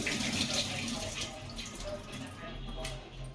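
Water splashes steadily from a tap or jug into a cooking pot for mutton bone soup with lentils, a continuous close pouring rush that thins toward the end.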